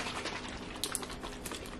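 A Rice Krispie flavour protein shake sloshes inside its bottle: a steady, faint liquid churning and fizzing throughout, heard alone.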